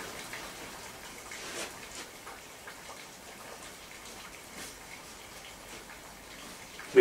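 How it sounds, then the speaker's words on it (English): Steady daytime rain falling outside, a faint, even hiss with scattered soft drop patters throughout, no voices. "It's just raining steadily today."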